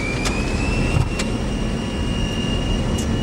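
Steady broadband roar of Sabena Boeing 737 jet airliner engines spooling for takeoff on runway 25 right, with a sustained whine on top and a few brief clicks, continuous and fairly loud.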